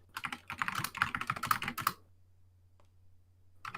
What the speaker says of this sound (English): You can hear the typing, and it's very